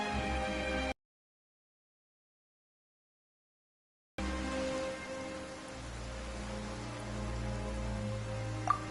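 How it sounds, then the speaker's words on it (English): Steady rain pours in Genshin Impact, a dense even patter that cuts out briefly, then returns with a low rumbling undertone and a single sharp tick near the end. "Why is it raining all of a sudden?"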